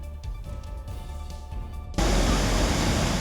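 Fast floodwater surges after torrential rain near a drain, a loud, dense roaring rush that cuts in abruptly and continues steadily, following a quieter rumbling stretch.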